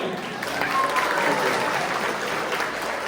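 A community audience at a zonal talent competition event in the UK gives a brief, soft, steady patter of applause, with a voice faintly audible over the clapping.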